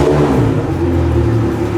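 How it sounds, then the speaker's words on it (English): A second marine engine on a training boat at a marine mechanic school fires up and settles into a loud, steady close-range running drone, with no talking over it. "Then what we do is we go ahead and we fire off the other engine."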